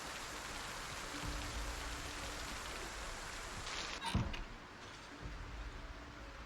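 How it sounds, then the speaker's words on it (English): Steady rain falls in the video game Project Zomboid, a continuous hiss of downpour that stays even throughout, with a brief thump-like disturbance midway. "It's a lovely rainy day."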